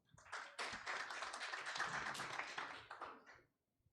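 A small audience at an academic event on international studies breaks into applause for a speaker. The clapping swells quickly, holds as a dense, even patter for about three seconds, then dies away into quiet.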